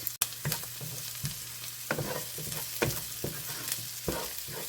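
Minced garlic sizzles in a pan for Filipino picadillo, a soft continuous crackle broken by repeated scraping stirs and clinks.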